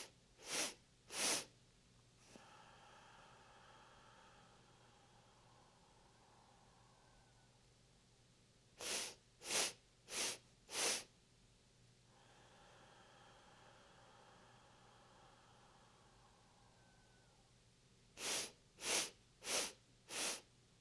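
Quick sharp sniffs in through the nose during breathwork come in groups of two and four, separated by long soft hissing exhales, close and quiet with no talking.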